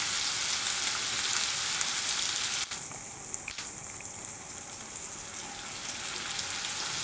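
Chopped onion sizzles in hot oil for a home fish biriyani, a steady loud frying hiss running throughout, with a brief sharper crackle partway through as the onion hits the pan.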